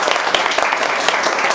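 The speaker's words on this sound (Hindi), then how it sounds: "एक बार इन तीनों के लिए ताली बजाओ आप लोग यार।" Audience clapping for three people standing up in a room, a loud, dense burst of applause from many hands, close and continuous without talk.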